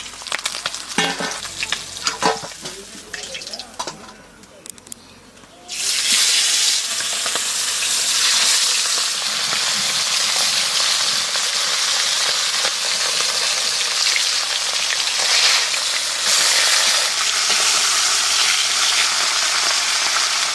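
Pomfret fish frying in hot oil, opening with a few clinks and scrapes before a loud, steady, close-up sizzle takes over and holds for the rest of the clip.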